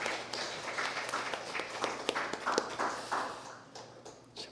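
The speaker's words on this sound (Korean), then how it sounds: "수고하신 모든 분들에게 우리 감사의 박수를 드리겠습니다" Congregation at a weekday church service in Bundang, Korea, applauding in thanks, with a soft, scattered patter of clapping that swells and then fades.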